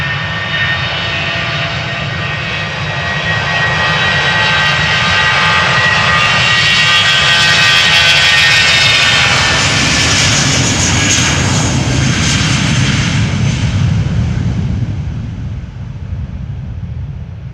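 British Airways Airbus A320, fifteen years old, bound for London Heathrow from Amsterdam Schiphol: a loud, close jet roar with whining engine tones that swells and then eases off.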